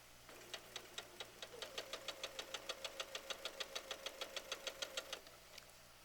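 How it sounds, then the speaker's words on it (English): A sewing machine stitches fabric in a fast, even run of sharp clicking needle strokes that starts, speeds to a steady rhythm for about five seconds and then stops, fairly close and clear. "Now we're going to flip this over, sew it"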